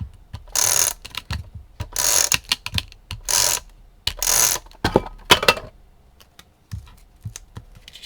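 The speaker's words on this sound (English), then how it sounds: "Just gonna use my tape runner." An adhesive tape runner is pressed and dragged across a handmade card, giving several short, crisp clicking and ratcheting bursts up close, followed by scattered softer taps and handling noises.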